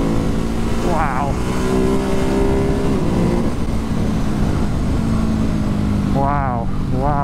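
A Ducati Hypermotard 950 motorcycle engine drones steadily at close range while riding through twisty roads, with a continuous loud rumble and wind noise and brief rising revs, as a man exclaims over it.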